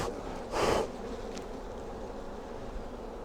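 Honey bees hum steadily at an opened hive being worked for queen cells, a low continuous drone with one bee buzzing loudly past the ear for a moment near the start.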